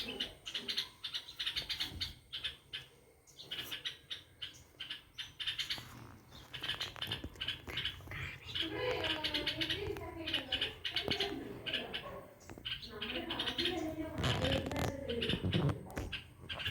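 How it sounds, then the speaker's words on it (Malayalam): Birds and their chicks chirp and tweet in quick, scattered bursts, fairly close and loud, with some cooing mixed in. Voices are heard at times in the background. "ഒരു കിളിയുണ്ട്, ഒരു കിളിയുണ്ട് അവിടെ അവിടെ"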